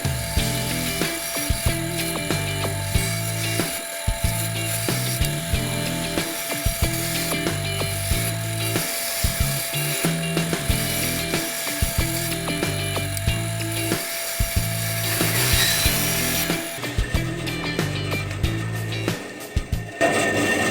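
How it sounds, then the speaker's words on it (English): A bandsaw cuts through wood for a ladybug craft, giving a steady, close, continuous mechanical whir with a rhythmic rasping drone that swells and dips across the cut, with no voices. "So I just finished up with the bandsaw"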